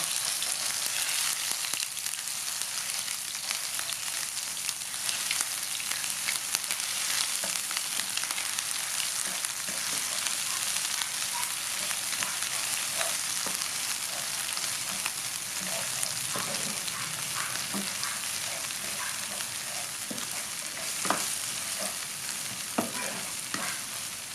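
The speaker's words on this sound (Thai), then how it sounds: "น้ำมันร้อนแล้วก็เอาเครื่องแกงลงพัดค่ะ" Thai curry paste fries and is stirred in hot oil in a wok, a loud, steady, crackling sizzle running without pause, with scattered scrapes of the spatula and no talking.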